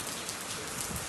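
Rain falling outdoors makes a dense, even hiss with scattered soft patters of drops, steady and moderately loud through the short clip with no voices.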